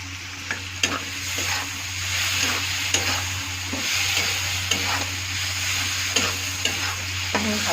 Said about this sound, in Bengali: ভালো করে ভাজা ভাজা করবো 5 মিনিট হলে